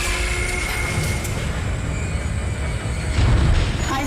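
In the sci-fi horror game Dead Space, a tram rolls along its rail with a continuous heavy metallic rumble, a deeper thump swelling near the end, no speech.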